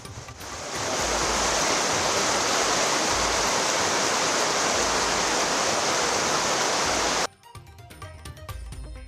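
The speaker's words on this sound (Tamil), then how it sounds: "டிட்வா புயல் எதிரொலியாக நாகை மாவட்டம் முழுவதும் வெளுத்து வாங்கும் மழை" Heavy rain from Cyclone Ditwah pours down across Nagapattinam district, a dense, loud, unbroken hiss of water that holds for several seconds and then cuts off abruptly.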